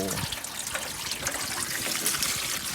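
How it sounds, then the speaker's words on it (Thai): Tap water runs steadily into a kitchen sink, a close, continuous rushing trickle that fills the whole clip without pause. "เปิดน้ำใส่ซิงนะครับ มันก็ ซิงน้ำเต็มเนี่ย"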